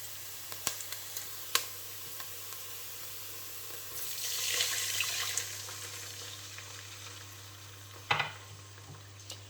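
Stock pours steadily into a pot of broccoli and butter bean soup for a couple of seconds amid a faint background hum and a few soft clinks.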